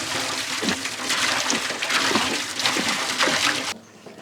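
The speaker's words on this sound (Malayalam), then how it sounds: "ആവശ്യത്തിനുള്ള വെള്ളം ഒഴിച്ചു കൊടുക്കാട്ടാ." Water poured into a large steaming pot fitted with a stand, for a big watermelon caramel pudding cake: a continuous splashing gush for several seconds that stops abruptly near the end.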